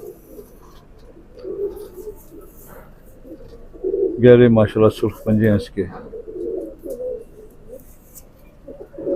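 A pigeon coos in a short low throaty burst, heard close while someone talks over it about the bird.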